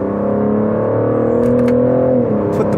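BMW M3 G80 engine revving hard under acceleration, a loud sustained rising drone that briefly dips at a gear change, close and alone.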